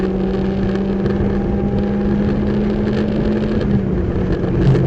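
A race car engine at Sebring on a lap, droning steadily at high revs in fourth gear, loud and continuous inside the cockpit with a wash of wind noise, no voices.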